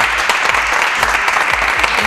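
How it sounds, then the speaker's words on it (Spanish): A studio audience on a Spanish television talk show claps steadily and loudly after a guest segment, a dense burst of hand claps with no voices over it. "Un aplauso, sí"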